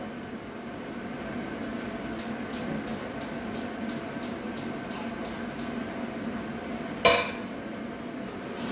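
Ingredients for tuna and cream pasta being dropped into a cooking pot, a single sharp metallic clink after a quiet stretch, with faint regular ticking and a low kitchen hum throughout.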